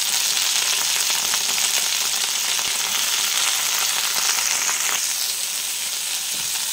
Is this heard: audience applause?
no